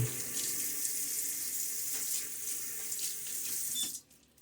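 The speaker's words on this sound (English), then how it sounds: "A little splash of water." Water runs from a bathroom tap in a steady, close hiss and splash while someone shaves with a safety razor, then cuts off abruptly near the end.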